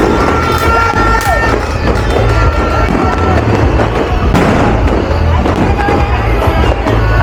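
New Year fireworks and firecrackers go off in dense, rapid crackling bursts, loud and continuous, with crowd noise mixed underneath.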